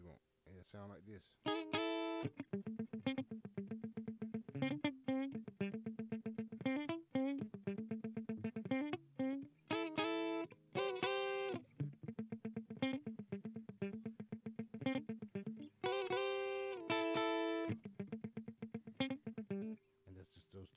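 Electric guitar repeating a two-note figure, steady picked rhythm with slightly distorted tone, played up close without pause for about twenty seconds.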